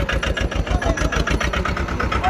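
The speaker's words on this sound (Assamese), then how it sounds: "এই যে ট্ৰেক্টৰটি কেনেকৈ উঠি যায় ওপৰত কেদাৰনাথলৈকে" A small passenger tractor's engine labours uphill on the steep mountain route from Gaurikund to Kedarnath, a steady throbbing drone with a regular pulsing rhythm, loud and continuous throughout.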